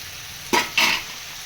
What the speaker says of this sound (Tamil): தக்காளி வந்து ஒரு 2 நிமிஷம் வதங்கட்டும்